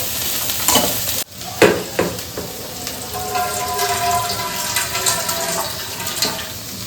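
Water poured into a pan of chopped cauliflower cooking on the stove, with stirring and a soft sizzle that rises, then settles into steady bubbling, close and moderately loud.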